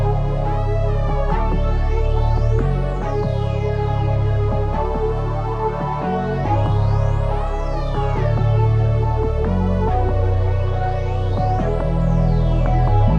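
A synth bass patch built from a square wave and a sawtooth wave layered together, playing a melodic bass line inside a loud, dense hip-hop mix with sweeping filter rises, alone without talk.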